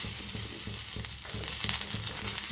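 Shallots sautéing in hot coconut oil in a pan give a steady, close sizzle, broken by a regular rhythm of spoon strokes and scrapes as they are stirred, with no voices.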